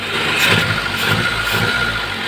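A Mitsubishi Lancer car engine runs close up with an uneven, stumbling rhythm, its steady drone broken by periodic pulses that suggest misfiring.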